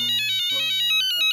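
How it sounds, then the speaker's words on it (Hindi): A mobile phone's ringtone for an incoming call plays loud and close, a bright repeating electronic melody of short pulsing tones over a sustained low note. "फोन आ गया"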